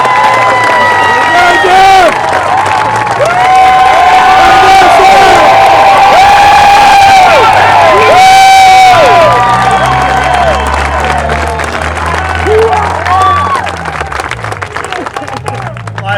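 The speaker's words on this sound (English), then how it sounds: "please put your hands together for Special Forces Officer Jeff Emanuel" A large crowd at a Middle Georgia Tea Party rally breaks into loud, sustained applause mixed with cheering, whoops and shouting voices close by, the roar swelling before easing off toward the end.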